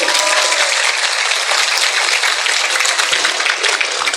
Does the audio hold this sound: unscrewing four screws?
no